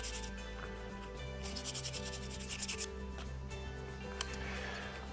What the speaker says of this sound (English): Take your sandpaper like we did before and sand the tops and sides